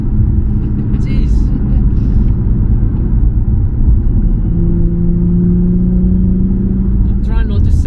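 A Nissan 350Z HR engine rumbles loudly and steadily from inside the cabin, rising in pitch under acceleration, with a short exclamation from a voice cutting in now and then.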